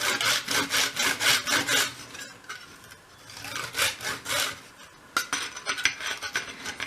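A hand saw cuts through wooden skirting board held upright in a mitre block for a 1/12th scale shop model, giving close, rhythmic rasping strokes in two bursts separated by a short pause.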